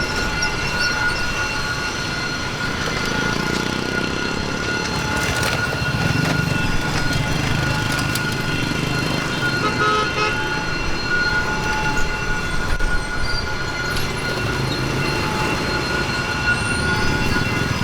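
A train rumbles steadily past up close in District 3, Saigon, Vietnam, with continuous clattering of wheels on rails and faint high-pitched squeals, loud and sustained throughout.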